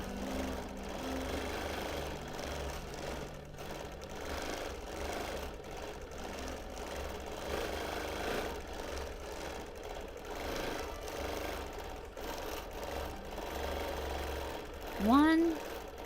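Free-motion edge-to-edge quilting on a sewing machine, a steady fast mechanical whir and stitching chatter running through the whole stretch, fairly close, with a short rising tone near the end.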